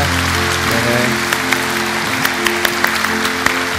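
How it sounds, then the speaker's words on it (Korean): A church congregation claps loudly and continuously as people stand, the applause washing over a sustained tonal background. "우리 한번 큰 박수로 격려하고 축복하면 좋을 것 같아요."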